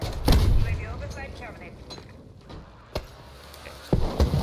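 Grenade blasts in Call of Duty Warzone: a loud booming explosion near the start, a sharp single crack near the middle and another heavy blast toward the end, with lower game noise between them.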